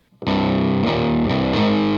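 Heavily distorted electric guitar playing the first variation of a song's chorus riff, thick sustained chords with three quick changes in a steady rhythm, loud and alone.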